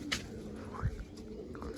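Pigeons coo softly a few times at close range in a loft, with faint low murmuring and a quiet background hum around them.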